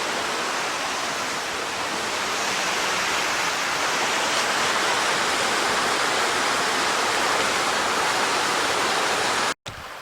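A creek flows steadily and close by in a wooded nature preserve glen, a dense continuous rush of water with no pauses, loud throughout and cutting out for a moment near the end.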